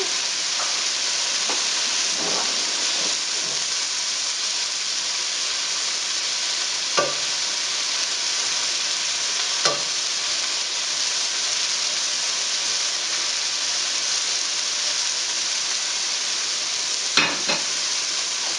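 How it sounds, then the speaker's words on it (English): Vegetables sauté in a pan for a quick meal-kit dinner, a long, even sizzling hiss broken by occasional utensil clicks and scrapes as they are turned. "So here's everything just sauteing away."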